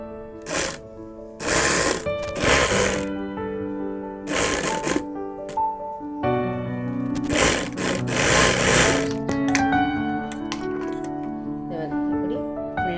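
A sewing machine stitches a V-neck petticoat during tailoring, running in several short and longer bursts of stitching, with tonal sounds and some talk around it.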